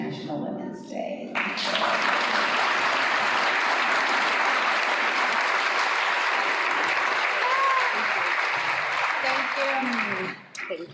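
Sustained, loud audience applause for a keynote speaker at the 2025 Ladies First International Women's Day event, starting abruptly, holding steady for about nine seconds, then fading out.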